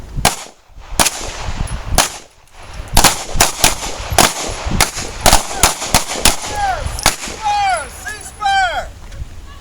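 Pistols fire at an outdoor shooting range in a police wives' training session: a rapid, uneven string of loud, sharp cracks from several shooters close by, with brief pauses and a voice calling out between shots.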